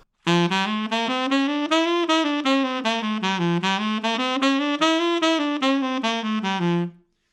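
A solo wind instrument plays a fast up-tempo jazz line with offbeat articulation, a quick continuous run of separated notes moving up and down for about seven seconds, close and unaccompanied.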